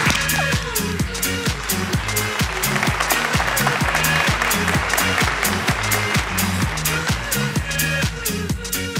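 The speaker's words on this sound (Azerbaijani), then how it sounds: "Alqışlarınızla." A studio audience on a TV variety show claps in a steady, even rhythm over loud music, sustained crowd noise filling the whole stretch without a break.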